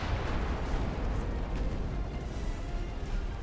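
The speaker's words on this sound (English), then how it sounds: "Oh, that's a torpedo detonation." A naval torpedo detonates in the warship game Ultimate Admiral: Dreadnoughts, giving a dense, heavy rumbling blast that rolls on steadily for several seconds without clear breaks, loud and unaccompanied by speech.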